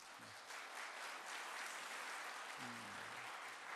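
A church congregation at a Sunday worship service in a New Jersey Korean Presbyterian church applauds to welcome newly registered families, a soft, even patter of clapping heard from a distance, with faint voice traces underneath.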